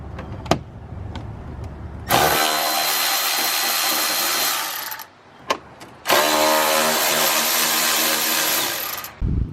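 Two long bursts of a cordless power tool whirring as 10 mm fender liner bolts are backed out on a 2024 BMW G80 M3, close and loud, separated by brief pauses with a few sharp clicks and taps.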